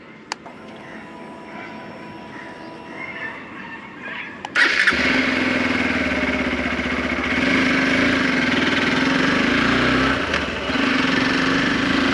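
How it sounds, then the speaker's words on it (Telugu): A tall motorcycle's engine fires up partway through after a quiet lead-in, then settles into a steady, close, throaty idle that holds to the end with no talking. "ఓకే మనం ఇంజిన్ అయితే స్టార్ట్ చేస్తున్నాం"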